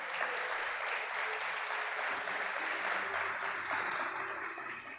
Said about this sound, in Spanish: Le da palmas fuertes al Señor por eso.